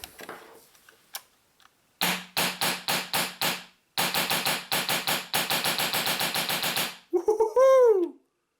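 A Tokyo Marui MP7 airsoft electric gun running on air fires a short burst and then two long, rapid full-auto bursts, loud and close, after a few faint clicks, followed by a rising voice.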